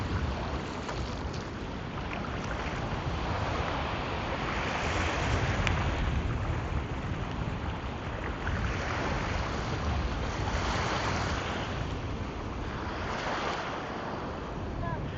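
Strong wind buffeting the microphone at a seaside camp in Zambales, with a continuous loud rush of gusts and surf churning for the whole stretch, no pauses.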